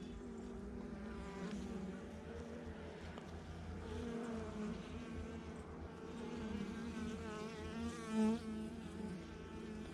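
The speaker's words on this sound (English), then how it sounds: "there's a pretty good pile of bees there" A dense, steady drone of many honey bees buzzing up close at the hive during an early-season inspection, with a louder bee passing near the end.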